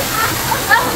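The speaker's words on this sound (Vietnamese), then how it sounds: "Nước chảy trên đầu." Water pouring overhead in an ancient town built on a waterfall in China, a dense, steady rushing splash that fills the short moment, close and loud, like heavy rain falling all around.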